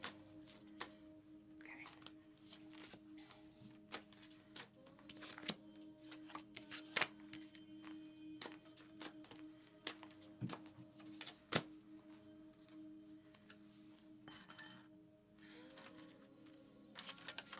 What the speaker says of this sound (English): give me three cards from the past life deck for Jamar.